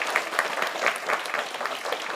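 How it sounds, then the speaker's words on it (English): Children at a BookTastic book event in Bedford clap for a fox drawing, a light, scattered round of applause with uneven individual claps, moderately quiet and alone. "Shall we give our Harleys a big round of applause for creating a brilliant fox?"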